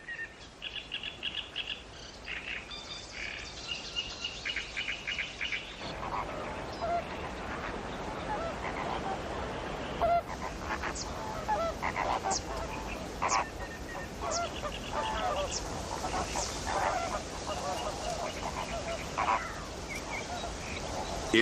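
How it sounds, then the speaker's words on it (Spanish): Water birds, flamingos among them, at coastal salt marshes, a dense chorus of distant calls and honks with scattered chirps over a steady outdoor background, continuous throughout. "sirve de refugio a buen número de aves acuáticas, entre las que destacan los flamencos"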